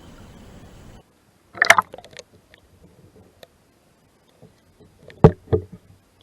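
A fish is released from a kayak back into river water, with a few short, sharp splashes near the start and again near the end, separated by quiet.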